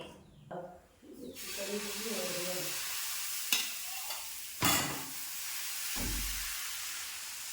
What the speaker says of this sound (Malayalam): ഇതിലേക്ക് നമുക്ക് ചെറുതായിട്ട് ചൂടായിട്ട് നമുക്ക് ഈ മാവ് ഒഴിച്ചു കൊടുക്കാം